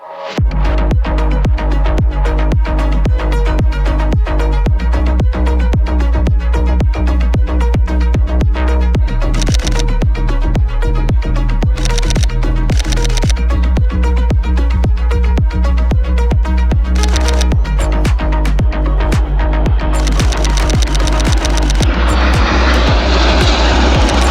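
Aircraft engines roar loud and continuous at an airshow, a heavy sustained drone with rapid pulsing throughout and a brighter rushing swell near the end, no talking.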